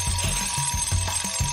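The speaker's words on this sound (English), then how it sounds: "Well, that's a crazy alarm." A cartoon alarm clock rings loudly and continuously, a rapid rattling clatter with steady repeating pulses and nothing else over it.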